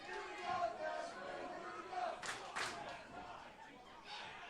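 Crowd at a Turkey Slam 2024 wrestling show cheering and shouting in swelling bursts, a loud arena roar heard under a commentator's talk.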